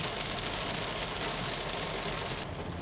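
Rain drums steadily on the windshield of a Honda BR-V Prestige 2022, heard from inside the cabin as a dense, even hiss that holds throughout and eases slightly at the very end.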